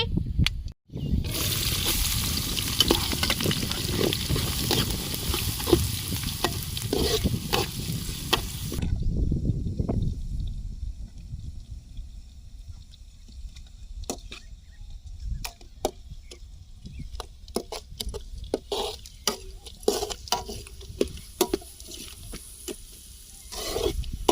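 Onion frying in a pan for egg gojju: a loud, dense sizzle for the first several seconds as the onion goes in, then settling into quieter crackling, with scattered spoon taps and scrapes.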